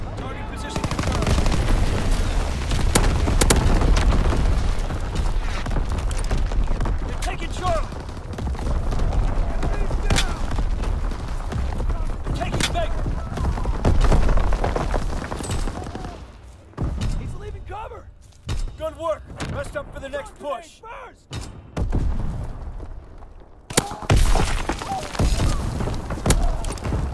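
Artillery and gunfire in the World War II shooter Call of Duty: WW2, a dense, loud barrage of blasts and shots that carries on almost without a break, with a short lull near the end before the firing picks up again; voices call out over it.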